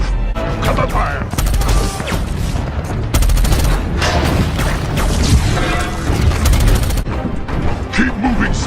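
Heavy gunfire in a Transformers movie battle scene: rapid bursts of automatic fire mixed with booms, metallic crashes and explosions, loud and continuous, with soldiers shouting over the chaos.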